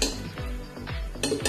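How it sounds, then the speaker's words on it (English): Clinks and taps of a spoon against a metal curry pot while roasted fenugreek powder is added to a methi kadhi yoghurt curry, a few quick close knocks in a short burst. "Now let us add the fenugreek powder."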